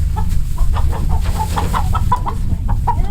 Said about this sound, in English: is there another chicken?